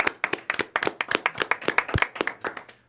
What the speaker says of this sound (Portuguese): Bate palma aí também